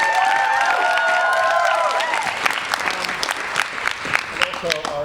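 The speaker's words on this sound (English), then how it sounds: "A round of applause for our host so far this evening" An evening audience at a teen showcase event cheers and applauds the host. Loud, sustained whoops and shouts open over clapping, then the cheering fades and scattered, punchy claps continue nearby.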